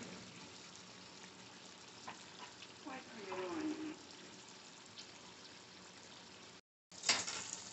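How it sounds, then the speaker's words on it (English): Ground beef and white onion fry in a pan, a faint, steady sizzle running under a quiet voice before a short break. "we started with about a pound and a half of ground beef. You want to lightly brown that, and then we added in about 3/4 of a white onion."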